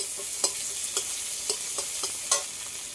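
Chopped green chillies, crushed garlic and onion frying together in hot oil, a steady broad sizzle with a few sharp stir clicks against the pan scattered throughout.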